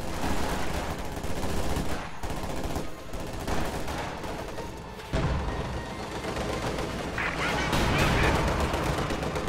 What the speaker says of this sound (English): Nice Panzerschreck volley there